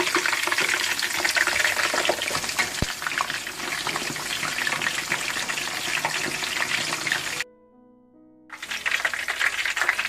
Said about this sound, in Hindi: देखिए बहुत अच्छी तरह से ये फ्राई हो चुका है